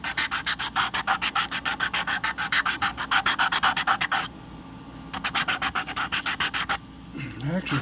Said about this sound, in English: this wood, it's probably balsa wood or some other soft wood. I don't want to take time. It's sanding pretty easy